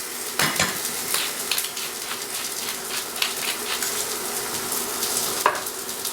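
An omelet fries in a pan with a soft continuous sizzle, broken by a few light scraping taps of a utensil against the pan throughout.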